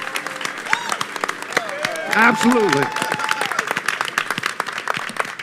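An audience at a music-production show taped at the NAMM trade show applauds a guest, scattered sharp claps and cheers mixed with a brief spoken reply and some whooping.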